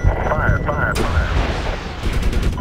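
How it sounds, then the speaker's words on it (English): Missile launched in Medal of Honor, a sharp blast and rushing whoosh amid rattling gunfire and combat noise, with a voice talking over the action. "Missile away."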